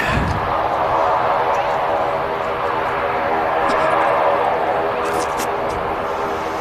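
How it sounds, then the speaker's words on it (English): An EasyJet Airbus A320 airliner from Santorini touches down at Manchester Airport, its steady broadband jet roar filling the scene throughout, with people talking over it. "That EasyJet is an A320 from Santorini"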